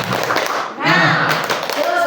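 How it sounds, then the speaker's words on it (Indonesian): A seminar group does a rhythmic spirit clap (tepuk semangat) in a few quick bursts of claps and taps, mixed with speech and chanting voices close by. "Sebelum kita cukup, kita tepuk semangat bersama"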